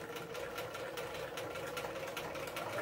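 Sewing machine set to half speed stitching near a zipper, a steady close mechanical whir with an even, rapid needle rhythm throughout, with no talking.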